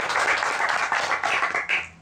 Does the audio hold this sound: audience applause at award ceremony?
yes